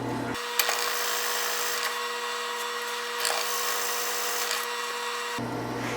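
A drill whines steadily while boring into a segmented acrylic pen blank, with a couple of brief clicks along the way before stopping.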